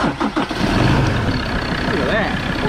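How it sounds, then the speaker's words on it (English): A car engine jump-started from an FPV drone battery cranks briefly, catches and settles into a steady mid-pitched idle, close by, with people talking over it. "How to start your car off a drone"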